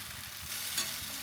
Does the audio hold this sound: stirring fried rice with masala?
yes